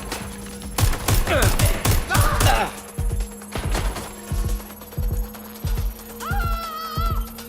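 Gunfire in the video game Watch Dogs Legion: a dense burst of rapid automatic fire up front, then a steady run of single gunshots spaced evenly apart, loud and close, with a brief electronic chirp near the end.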